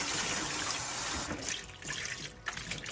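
Aralia shoots are washed in water: a steady close rush of running, splashing water that thins out into intermittent sloshing and drips, with no talking.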